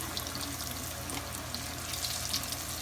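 Chicken fries in about 1.5 inches of canola oil in a large pan, a dense continuous sizzle and crackle, close and steady throughout with no talk.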